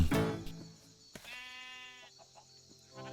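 Sheep bleat in Minecraft: a loud bleat opens, then a second long wavering bleat follows about a second later, close and clear over quiet game ambience.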